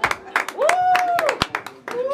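A few scattered hand claps for a man at a birthday celebration with a youth mariachi band, mixed in with nearby talking voices and a sustained sung or whistled tone.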